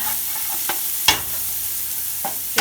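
Garlic and oregano sizzling in a pan for tomato sauce, a steady fry hiss with a few sharp clinks of a utensil stirring against the pan, close and alone.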